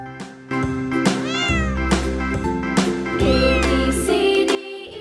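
A cat meows a few times in drawn-out, rising and falling cries, layered over steady background music.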